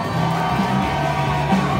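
A large crowd at an awards event cheers and whoops continuously, a loud dense roar of voices with applause blended in, sustained throughout.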